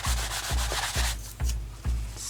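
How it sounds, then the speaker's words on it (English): A cloth soaked in rubbing alcohol rubs silicone residue off a canvas being prepped for resin, giving five loud, regular scrubbing strokes about half a second apart, close up with no talking. "I'm just going to try and get that off with some rubbing alcohol"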